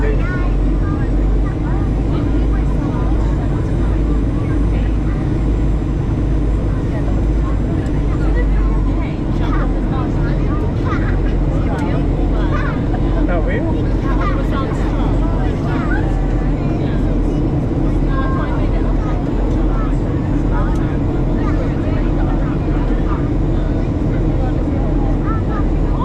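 Jet2 Boeing 737-800 engines during the landing approach to Gran Canaria, a loud steady cabin drone with rising and falling thrust beneath ongoing passenger talk.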